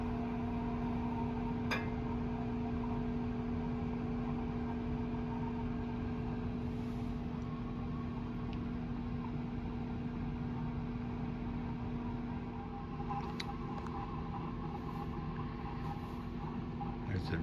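A Quadra-Fire pellet stove starting up, with a steady low mechanical hum and faint crackling and hiss of igniting pellets, plus a couple of small clicks, fairly quiet and continuous.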